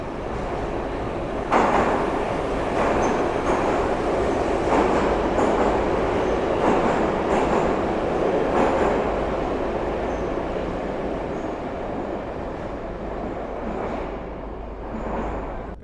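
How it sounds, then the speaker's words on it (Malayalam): A Tashkent underground metro train, part of Central Asia's 1970s system, rumbles loudly along the tunnel with a steady roar, rhythmic clickety-clack of wheels over rail joints and faint squeals, slowly easing toward the end. "1970-ലെ ഏഷ്യയിലെ ആദ്യത്തെ അണ്ടർഗ്രൗണ്ട് മെട്രോ സിസ്റ്റമാണ് ടാഷ്കൻഡിലെ."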